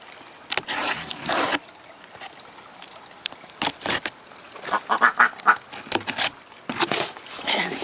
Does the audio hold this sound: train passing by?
no